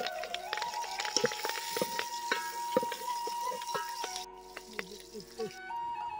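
Curry leaves hit hot oil for tempering while cooking village-style bele obbattu, giving quick crackles and sizzles with stirring clinks, under a steady hum and some background tones.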